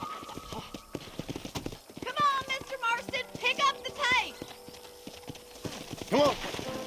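Rapid hoofbeats of a horse in the video game Red Dead Redemption clop along steadily while the horse whinnies several times over the rhythmic footfalls.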